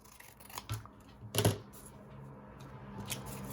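Scissors cut craft material in a few crisp close snips, one louder cut in the middle, with quiet handling sounds in between.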